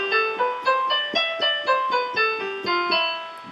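A musical scale in the Phrygian mode, played as about fourteen evenly spaced, plucked notes stepping up and back down in a steady rhythm, clear and close with no talking.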